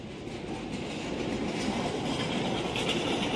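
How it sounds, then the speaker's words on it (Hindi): A MEMU express train stands at Rambagh station in Prayagraj, giving a steady low rumble and hum of rail cars with a faint rattle that holds level throughout, with no voices. "अभी सामने ये मेमो एक्सप्रेस लगी हुई है"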